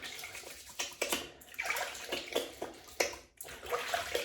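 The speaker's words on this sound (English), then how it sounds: "Now I'm just going to rinse these." Tap water runs and splashes while hands and a razor are rinsed during a wet shave. The flow is intermittent and fairly soft, with no talking.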